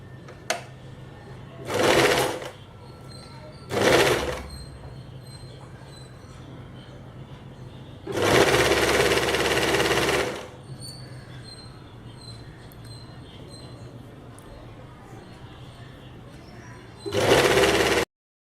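A sewing machine stitching the lining of a blouse, running in several short whirring bursts of one to two seconds separated by quiet gaps, with a faint voice in the background.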